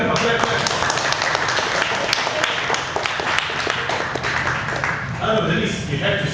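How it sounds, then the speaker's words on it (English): Audience applause at a vegan event, a steady wash of many hands clapping that runs throughout, mixed with overlapping talk and a few sharper claps standing out near the front. "Put hands together, come on, clap."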